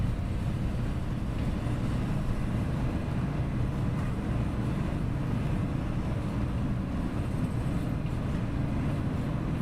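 Thrust reversers out on an Airbus airliner landing in a flight simulator game, a steady broad roaring rush of engine and wind noise, sustained and even without pauses.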